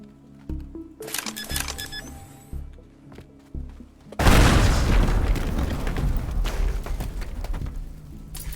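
A C4 charge explodes in the destruction game Teardown. Several scattered clunks and thuds come first, then a sudden loud blast that turns into a long, dense roar of crumbling debris that carries on to the end.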